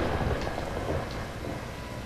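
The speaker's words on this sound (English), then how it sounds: "Oh, it's raining. That's why it's so dark." Rain pours during a dark night scene in the video game Dying Light, a continuous hiss with low rumbling beneath it, fairly quiet and steady with no voices.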